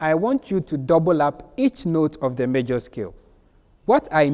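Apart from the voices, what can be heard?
No everyday noise stands out behind the speech.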